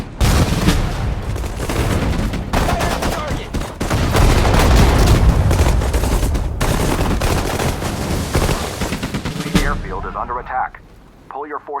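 Heavy battlefield gunfire in Sudden Strike 4 at Guadalcanal, with machine guns and artillery booms overlapping in a loud, continuous barrage before cutting to quieter sounds and voices.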